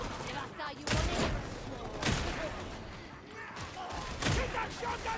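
Shotgun fire in the Warhammer 40,000 Darktide video game: several heavy booming blasts in rapid bursts, loud and close, amid chaotic combat noise with voices speaking over it.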